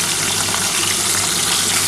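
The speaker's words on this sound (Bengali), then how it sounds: "আমি ইলিশ মাছটা কিন্তু খুবই হালকা করেই ভাজছি" Hilsa fish frying lightly in oil makes a loud, continuous close-up sizzle with no voices over it.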